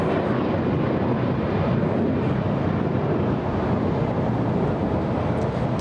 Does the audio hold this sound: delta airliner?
yes